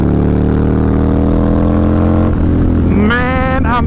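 A 2004 Harley-Davidson V-Rod engine runs loud and close with a steady deep drone, and a voice breaks in briefly near the end.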